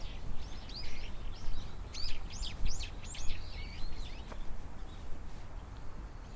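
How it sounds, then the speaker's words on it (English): Birds chirp in quick, high twittering bursts over a steady outdoor background hiss, busy at first and then fading to quieter calls. "I hear all these birds."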